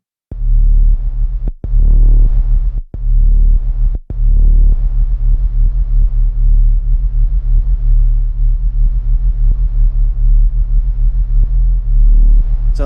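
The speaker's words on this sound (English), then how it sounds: "Let's adjust the response so it's faster so that we get more distortion." A heavy, droning distorted techno bass tone throbs loudly and continuously, with a few abrupt cutouts near the start before settling into a sustained growl.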